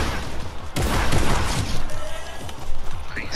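Gunshots in the battle royale game Fortnite, a series of loud, sharp cracks and impacts spaced irregularly through a busy, close-up firefight.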